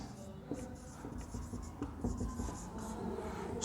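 Pen or pencil scratching across paper while a geometry exercise is worked out, a quiet continuous scribble with a few firmer strokes and brief pauses, close and soft, with no talk.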